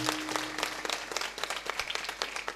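Loud, dense clapping from a crowd gathered at a first death anniversary memorial for a fallen soldier, steady and sustained throughout with no talking over it.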